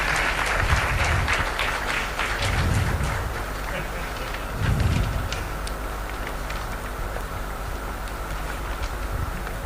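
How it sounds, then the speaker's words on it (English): Audience applause for panelists at an AI in healthcare summit, a dense, sustained round of clapping with low rumbling swells and background voices over about ten seconds. "I'm sure they deserve a bigger round of applause from all of us"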